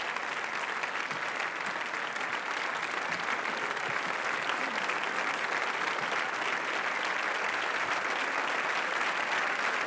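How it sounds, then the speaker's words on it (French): A large festival audience at the Cannes Film Festival claps loudly and continuously in a standing ovation, a dense sustained ovation filling the whole stretch. "Les festivaliers qui applaudissent à tout rompre."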